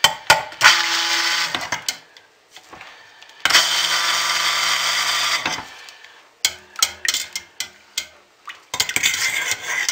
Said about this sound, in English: I'm going to hit it some with the stick blender when I'm done.